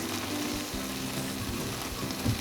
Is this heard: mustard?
yes